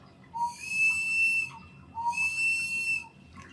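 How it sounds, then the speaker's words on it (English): A handmade bear whistle, its air diverted by a tar-like plug, gives two long, steady, shrill blasts about a second each with a short gap between, close and clear with no talking. "This is a bear whistle."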